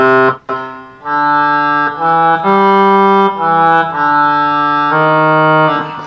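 An Akai EWI 5000 electronic wind instrument plays a short melody of clear sustained synth notes, each held for about a second with brief gaps between them, loud and close with no talking.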